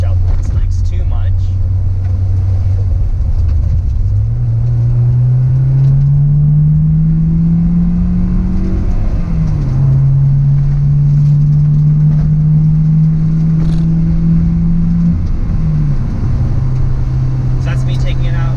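A Honda S2000 fitted with a GReddy Supreme SP exhaust pulls hard on a freeway, its engine note climbing steadily through the revs with brief dips at gear changes, loud and continuous from inside the car.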